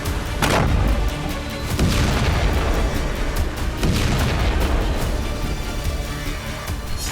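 Al Yasin anti-bunker missile explosions in Israel-Palestine war footage: loud, booming blasts with several heavy thuds and crackling rumble, dense and continuous.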